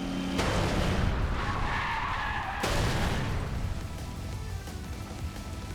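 Race cars in a video game skid out of bounds with a loud, harsh tire screech and roaring rush, then a sudden crash-like burst partway through, easing into a rumbling fade.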